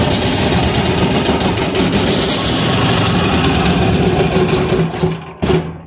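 A 186FA single-cylinder diesel engine burning used synthetic engine oil runs loudly at close range, a steady rapid knocking chug that stumbles and cuts out briefly near the end.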